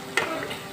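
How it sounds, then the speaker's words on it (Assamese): Food fries in hot oil in a kadai, with a brief sharp clack of stirring against the pan above a continuous soft sizzle. "এতিয়া এয়া ভাজিছো"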